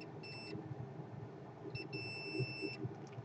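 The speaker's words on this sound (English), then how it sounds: "So we have beep" A multimeter beeps during a continuity test on a PS4 Ethernet port repair: two clean, steady electronic tones, a short one followed by a longer one, over a faint, murmuring room background.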